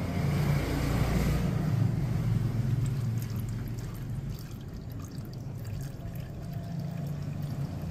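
Motor oil drains from a Yamaha MT-09 motorcycle during an oil change, a soft steady pouring trickle under faint workshop background noise, continuous throughout.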